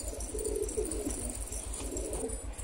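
An old, wing-clipped male pigeon cooing in low, repeated throaty phrases, close and clear over a steady rhythmic thrum.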